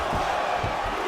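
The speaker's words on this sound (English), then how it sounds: "nice pop there from the crowd as he finally gets the takedown" Arena crowd at a UFC bout between Kamaru Usman and Colby Covington makes a brief, steady roar as a takedown lands, a dense far-off wash of voices lasting about a second.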